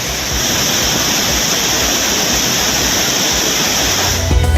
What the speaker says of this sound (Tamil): குற்றால அருவிகளில் காட்டாற்று வெள்ளம்.